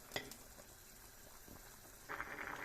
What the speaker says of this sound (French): Hop, les pâtes. Jusqu'ici, elles sont en train de bouillir